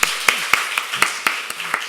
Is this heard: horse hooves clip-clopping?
no